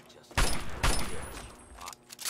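Gunfire in the video game Fallout 3, two loud bursts of shots close together, followed by a quieter stretch and a faint rattle near the end.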